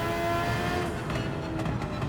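A high-revving race car engine from a racing video game, one that revs to about 12,000 RPM, drones loud and steady throughout, with a brief flutter of tire or gear noise near the end and no talk.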